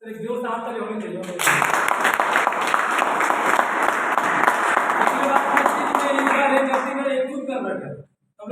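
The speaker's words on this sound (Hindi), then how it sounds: "तो एक जोर से हाथ ताली होनी चाहिए।" Loud, sustained applause from an audience at a business training program in a hotel hall, a dense wall of clapping lasting several seconds before stopping abruptly; people talk over it at the start.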